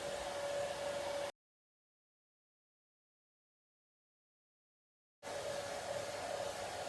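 Steady, close whoosh of a hair dryer drying a painted sign, with a faint whine on top, cutting off abruptly to silence and then resuming.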